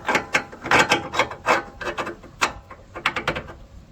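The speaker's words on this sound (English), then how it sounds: "so chuck these camber bolts back in" Camber bolts being refitted on a 1992 Toyota Soarer, a quick series of close metallic scrapes, taps and ratchet-like clicks in uneven bursts.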